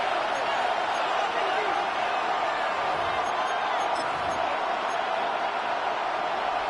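Football stadium crowd roaring steadily before a third-down play, a dense, continuous wash of cheering that stays loud from start to finish without breaks.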